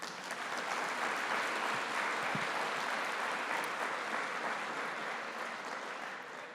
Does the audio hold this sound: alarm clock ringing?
no